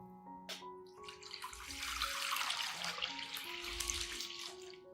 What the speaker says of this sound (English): First, I prepare a large container and add 3 liters of clean water.